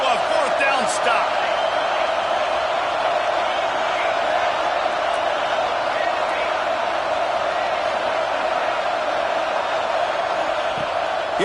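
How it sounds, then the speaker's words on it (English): A loud football stadium crowd roars continuously during a fourth-down play, a dense steady wall of cheering and shouting with occasional whoops and thumps and no breaks. "This crowd busting the decibel meter and trying to will a 4th down stop."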